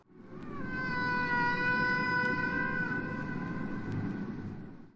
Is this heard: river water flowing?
no